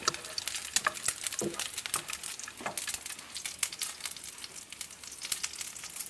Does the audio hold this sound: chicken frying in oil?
yes